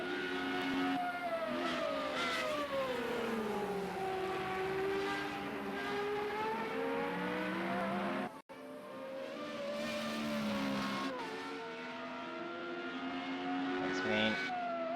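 Race car engines idling and revving in a pre-race lobby of Project CARS, a Formula Renault event at Imola, with a continuous droning hum that rises and falls, a brief cut partway through, and faint talk at times.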